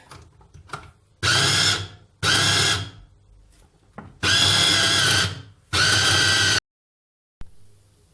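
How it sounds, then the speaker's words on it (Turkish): Food processor whirring as it chops chicken for nuggets, four loud bursts of a few seconds each separated by short pauses, close and alone with no talk. "Hepsini robottan geçirdim"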